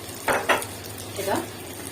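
A spoon scraping through tomato sauce with stuffed cabbage ingredients in a pot, two quick close strokes then a softer swirl, over a low simmering hiss.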